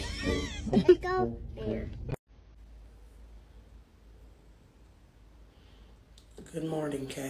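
Cats meow in a morning household: a quick run of close meows opens, then near silence follows, and more meowing rises again at the end.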